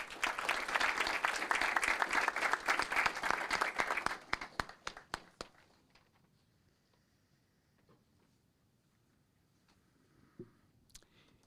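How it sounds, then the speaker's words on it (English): Audience applause at a city council meeting, a dense burst of clapping for about four seconds that thins into a few scattered claps and then near silence, with faint room noise after. "Let's give them another warm round of applause."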